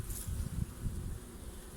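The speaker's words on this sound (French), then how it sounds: "il y a un petit peu trop d'abeilles" Honeybees at a beehive in winter, in December during oxalic acid treatment and a check of winter stores, give off a steady, low, faint buzzing hum that continues throughout, with no voices.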